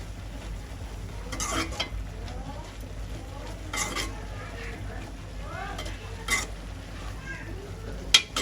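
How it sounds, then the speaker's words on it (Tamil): Spoon stirring turmeric powder into milk reducing in a pot, soft scraping strokes with light clinks against the pot and a gentle simmering hiss underneath, heard up close. "நாங்கள் வந்து மஞ்சள் தூள் போடுவோம் போட்டு நல்லா மிக்ஸ் பண்ணுவோம்"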